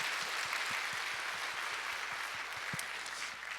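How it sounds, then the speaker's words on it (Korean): A church congregation claps to welcome new members during Sunday morning worship, a sustained wash of many hands filling the hall, moderately loud and steady, with no voices over it. "동산의 가족이 되신 분들에게 마음을 담아 우리 박수로"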